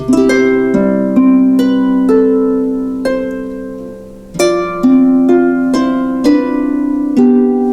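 Plucked harp tones repeat a low left-hand 1-5-8 broken chord pattern starting on C, ringing and overlapping in a steady rhythm, played alone and up close.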